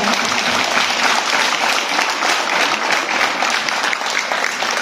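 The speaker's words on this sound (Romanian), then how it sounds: "O primim cu aplauze așa călduros" A room full of children applauds warmly for a visiting children's book author at a book presentation in Cugir, a dense, steady wash of clapping, loud and close.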